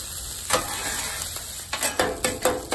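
Rice sizzles in peanut oil on a Blackstone griddle, a constant close hiss broken by several quick scraping strokes of a spatula toward the end.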